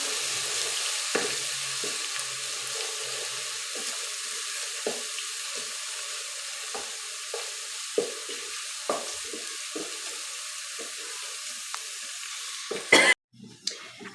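Garlic and ginger paste frying in a pan for aloo bhindi, a continuous hissing sizzle with repeated scraping stirs and clinks, close and steady, ending in a brief louder clatter.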